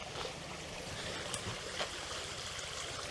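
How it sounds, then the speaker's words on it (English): A countryside stream in Britain runs under a bridge, giving a steady, close rushing and trickling of water that fills the whole stretch at an even level, with a couple of faint brief knocks and no talking. "A little bit of ambient sound for you. There's the stream."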